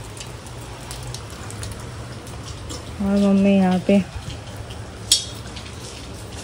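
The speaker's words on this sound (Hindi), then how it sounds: "तो आज हो रहा है बहुत बारिश की, देख सकते हैं।" Heavy rain pours steadily outside a rural home as a continuous broadband hiss, with a voice speaking briefly partway through.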